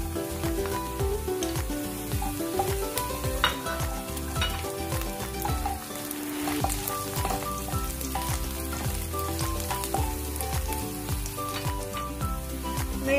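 Garlic sizzling steadily in hot oil with softened onions while cooking Ilocano igado, a dense continuous crackle with occasional stirring scrapes throughout.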